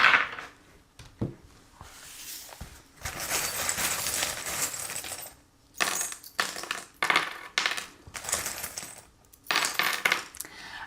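Small lucky charms cast onto a surface for a French-language divination reading, giving repeated clattering, jingling rattles in several bursts with brief pauses between, close and moderately loud.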